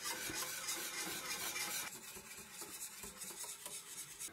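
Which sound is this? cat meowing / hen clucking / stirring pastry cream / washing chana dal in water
stirring pastry cream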